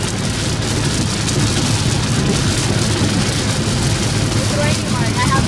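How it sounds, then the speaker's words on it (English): Rain drumming on a car moving at highway speed, heard from inside the cabin as a loud, steady wash of noise over low road rumble, with no pauses. "It's raining."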